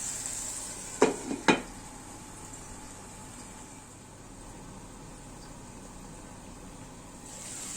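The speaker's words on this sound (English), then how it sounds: "And then we will add some butter to our pan. Yeah, and let it cook it." Chicken frying in butter in a pan, a soft, steady sizzle throughout, opened by two sharp metallic clinks of a utensil against the pan, with no voices.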